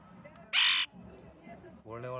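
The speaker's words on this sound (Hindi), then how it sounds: "ये देखिए दो तोते।" Two parrots at a hillside fair, a single harsh, loud screech followed later by a shorter squawking call, with someone talking in the background.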